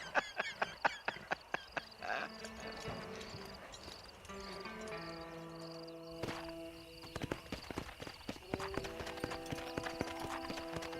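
Horse hooves clip-clop in Red Dead Redemption on Xbox Series, starting as a quick sharp run of hoofbeats. A softer rhythmic trot follows, mixed with game music tones and faint crickets.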